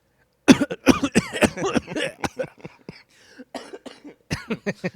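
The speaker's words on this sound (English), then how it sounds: "I am going to make you cough so many times" A burst of repeated coughing, sharp and close, with a few throat-clearing hacks and short pauses between the fits.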